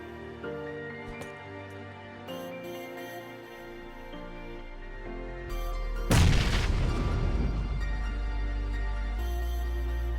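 Grenade blast in the PUBG battle royale game: a sudden heavy explosion boom midway that rolls off into a rumbling tail, over a steady background music bed.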